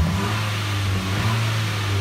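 A 2018 Nissan Sentra Nismo's small engine runs with a steady mid-pitched drone and a slight rise in revs, heard loud and close with no talking.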